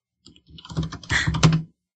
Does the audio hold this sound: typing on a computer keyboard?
yes